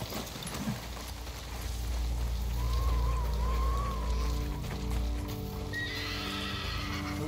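Horses in the video game Ghost of Tsushima stamp and shuffle nearby over a low ambient hum, and one lets out a short whinny toward the end.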